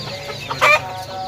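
A short rooster call bursts out for a moment in a busy bird market in Lahore, with steady background hum and faint chatter around it.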